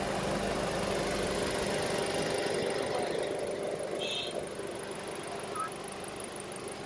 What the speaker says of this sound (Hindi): एक बार इसके इंजन की भी आपको साउंड सुना देता हूँ।